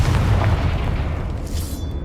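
A Confringo fire spell explodes in Hogwarts Legacy, a heavy rumbling boom that rolls on for about two seconds and fades, loud and alone with no voices.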